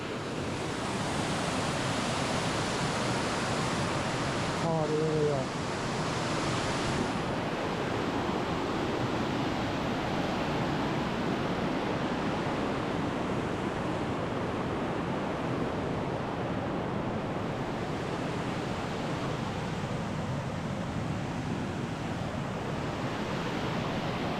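The Ispay waterfall roars in a steady, dense rush of water that stays loud and unchanging throughout, with a faint brief tone near the start.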